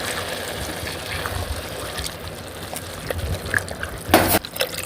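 A can of tomato sauce pours into a pot of one-pot cheesy goulash with ground beef, making a close, thick liquid glug and splatter under a steady kitchen background, ending in a brief louder splash.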